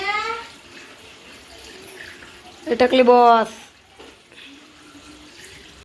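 Tap water runs into containers at home in a steady hiss of flowing water, with a voice speaking briefly in the middle and quieter chatter around it.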